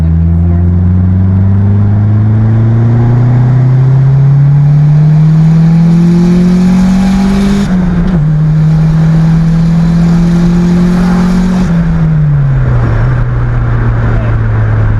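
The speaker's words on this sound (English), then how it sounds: "Revving right out." A Honda Civic EG hatchback engine revs steadily upward under load on a dyno for long stretches, shifting gears twice with brief drops, loud and close.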